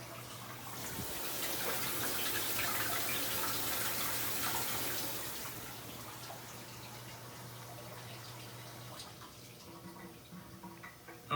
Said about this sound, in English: we can kick the water pump on and you can hear it spraying